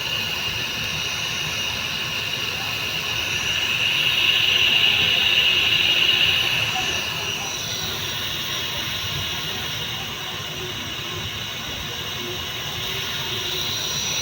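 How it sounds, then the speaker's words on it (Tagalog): A portable gas stove burner roars steadily with a loud, broadband hiss that swells for a few seconds midway, then settles back to a constant rushing flame. "Grabe, ang lakas ng apoy guys. Kung naririnig nyo guys, pakinggan nyo guys."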